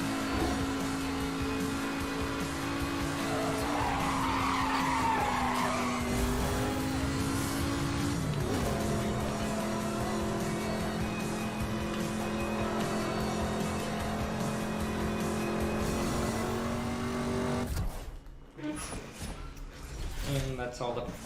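Engine drone of a Lamborghini race car in Need For Speed Hot Pursuit Remastered, a steady loud hum with pitch shifts and a brief rising rev, running continuously under voices before cutting off near the end.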